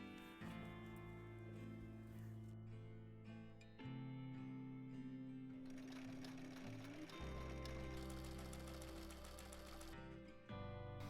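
A domestic sewing machine stitches bias tape with elastic inside it for a halter neckline dress, running in steady mechanical bursts of rapid needle strokes with brief pauses and speed changes, close and alone.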